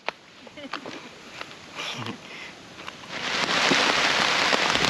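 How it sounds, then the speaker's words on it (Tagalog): Rain patters lightly at first, then swells into a steady, close downpour with scattered drops hitting a surface. "Umuulan na."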